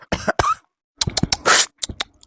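A series of short, sharp coughs in quick bursts, close and fairly loud, with brief silences between fits.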